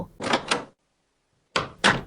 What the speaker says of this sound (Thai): ก่อนจะเดินออกจากห้องนอนค่อยๆปิดประตูลงอย่างแผ่วเบา